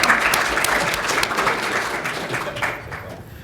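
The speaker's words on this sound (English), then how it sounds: "That deserves all of our applause." Applause from a convention audience at an astronomy panel, loud and dense at first and then thinning and tailing off toward the end.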